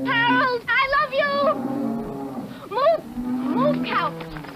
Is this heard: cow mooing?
yes